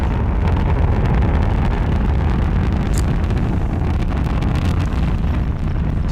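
A Proton-M/Breeze-M rocket roars during launch ascent, heard as a loud, steady, broadband rumble with wind-buffeted crackle that never lets up.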